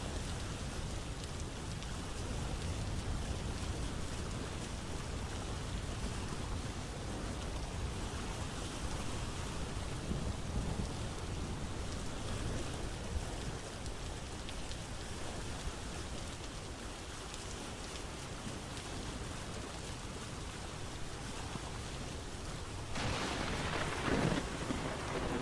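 Heavy rain and thunderstorm in the video game Vintage Story, a dense, continuous downpour hissing steadily throughout, with a rumble of thunder near the end.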